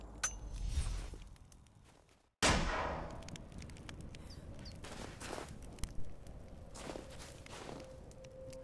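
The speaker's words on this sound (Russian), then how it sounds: "Что еще за выстрел был?" Gunfire in the video game Rise of the Tomb Raider: a sharp, loud crack that cuts in after a brief silence and rings out, followed by scattered fainter bangs and rustling game ambience.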